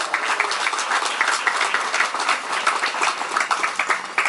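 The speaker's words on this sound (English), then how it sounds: "a big round of applause for this man" Cheering spectators at a cricket tournament closing ceremony give a sustained round of brisk, dense clapping, heard from the middle of the crowd, unbroken and free of speech throughout.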